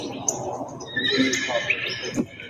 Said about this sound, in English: Now, Harvey, did you hear that horse in the background?